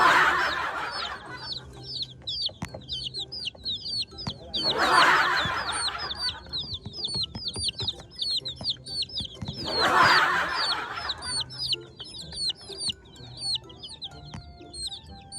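Colorful young chicks in their enclosed playground keep up rapid, high chirping and soft clucking. Louder flurries of activity return at regular intervals, all heard close up.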